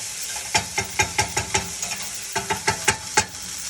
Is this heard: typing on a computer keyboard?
no